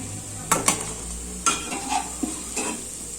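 Coconut burelu fritters fry in hot oil in a pan with a steady sizzle, broken by several sharp metallic scrapes and clinks of a utensil turning them.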